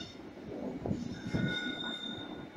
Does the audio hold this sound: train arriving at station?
yes